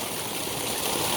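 Murky water gushes steadily from a tube well in Sabah, Malaysia, a constant broadband rush of flowing water, close and fairly loud throughout with no voices.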